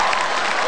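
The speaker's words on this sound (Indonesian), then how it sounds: "tepuk tangan dulu dong untuk Pak Ahok." Audience applause for Pak Ahok at a stand-up comedy appearance, a dense, steady burst of clapping from a crowd filling the whole moment.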